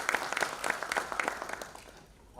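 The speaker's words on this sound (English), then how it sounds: "Please give a huge round of applause" Conference attendees give a panelist a round of applause at a technology and sustainability event, a moderate burst of clapping with distinct hand claps that dies out after about two seconds, leaving near silence.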